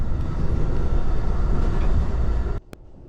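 An Amtrak Acela high-speed train runs on the rail line, a loud, steady rumble and rush that continues alone before suddenly dropping to a quieter level near the end.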